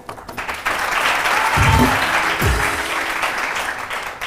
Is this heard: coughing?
no